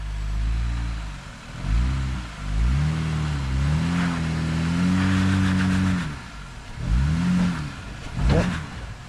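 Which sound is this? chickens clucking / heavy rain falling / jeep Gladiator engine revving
jeep Gladiator engine revving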